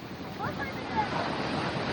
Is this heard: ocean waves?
yes